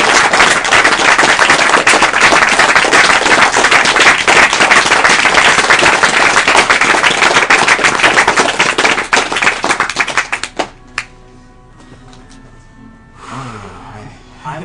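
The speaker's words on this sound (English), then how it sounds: "big round of applause for Prevent Cancer" Loud, dense applause from a live speedrun charity marathon crowd at Awesome Games Done Quick, a sustained wash of clapping for about ten seconds before cutting off abruptly into quiet game music.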